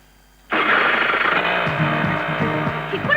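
A motorbike engine catches abruptly after a short quiet moment in a comedy film scene, then settles into a loud, steady running rumble that stays close and continuous with slight fluctuations.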